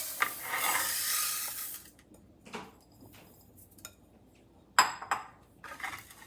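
Flaxseed being dry-roasted in a pan and stirred with a utensil: scraping and rubbing strokes come in short bursts with quiet gaps, and a sharp metallic clink lands near the end, close and fairly soft.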